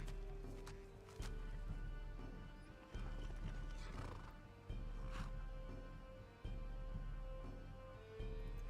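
A horse in Skyrim whinnies loudly and clip-clops on hooves, with repeated neighs and footfalls over a steady game background.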